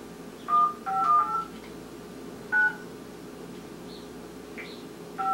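Telephone keypad tones beeping as a number is dialed, a few short separated presses over a steady background hum, with no talk.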